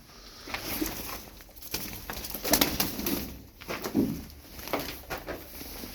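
Tumbler pigeons coo softly nearby, low throaty calls repeating over a quiet background with faint rustling.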